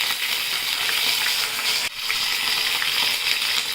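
Green chillies and curry leaves sizzle hard in hot tempering oil for a spinach dal, a bright, loud, continuous crackle with a brief dip midway, and no voices.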